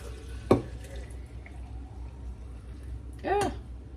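San Pellegrino sparkling water poured into a clean Yeti bottle: a brief splash and drip, then a short gurgling pour a few seconds later, faint and close over quiet room noise.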